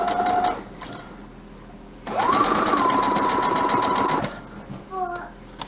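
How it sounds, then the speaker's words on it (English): A home sewing machine chain piecing fabric pieces, running in steady whirring bursts with a pause between as the foot is lifted and the next piece fed, close up, with brief voices in the gaps. "I'm going to sew right off of it, pick up my foot, insert the next fabric piece, press the foot down"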